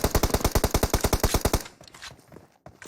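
Automatic gunfire in the video game PUBG Mobile: a loud, rapid burst of about eighteen evenly spaced shots, then a quieter, fading tail with faint scattered noises.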